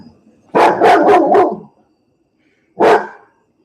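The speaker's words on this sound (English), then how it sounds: "my roommate's dog is demanding some attention right now" A roommate's dog barks for attention indoors: a quick burst of four close, loud barks, a pause of about a second, then one more sharp bark, with quiet between.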